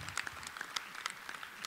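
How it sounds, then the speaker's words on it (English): Scattered clapping from an audience at an economic empowerment conference, faint and sparse, individual claps standing out in a short burst. "Let's give Dick Gregory another well-deserved round of applause."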